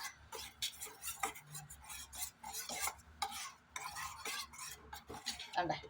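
A spoon or whisk stirs a kulfi mixture in a pot, giving close, rhythmic scraping and clinking against the metal in repeated strokes throughout, with no one talking.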